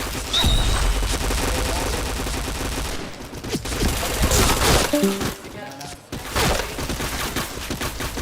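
Heavy gunfire from a shooter video game, continuous volleys and bursts with brief lulls and bright impact cracks, loud throughout.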